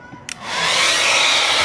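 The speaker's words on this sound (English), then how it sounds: "whoever has a hair dryer in the house, you can use that too" A household hair dryer blows hot air onto vinyl window tint on a Dodge Challenger Scat Pack; a brief click is followed by a loud, steady, close rushing whoosh with no talking.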